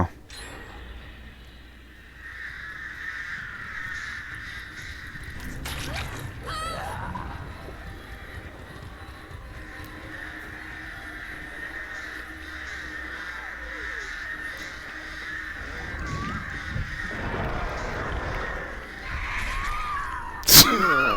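Crows caw repeatedly in a Dead by Daylight match, harsh calls sounding through an eerie ambient bed with sharp game effects and a brief crash near the end.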